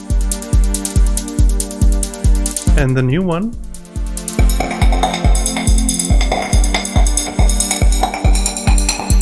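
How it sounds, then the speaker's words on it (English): A programmed hi-hat and drum beat loops in Bitwig with a steady, punchy pulse of kick hits and crisp hi-hat ticks, briefly broken by a spoken phrase before the pattern resumes with a brighter hi-hat layer. "if I listen now to my track with the original hi-hat"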